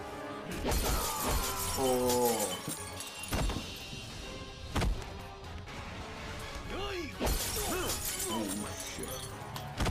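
A bottle smashing in a Bhojpuri action film, loud glass shatter and breaking crashes among music and voices, with people talking over the scene.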